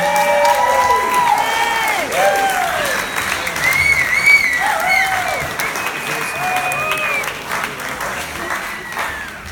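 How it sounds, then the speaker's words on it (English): Audience applause and cheering for a live performer after a solo guitar set, a dense sustained wash of clapping with scattered whoops and shouts throughout, loud and close. "Keep that applause going, ladies and gentlemen"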